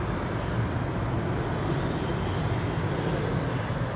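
A Lauda Airbus A320 airliner at Edinburgh Airport gives a distant, steady low engine rumble, fairly faint and unchanging across the short stretch, with no voices.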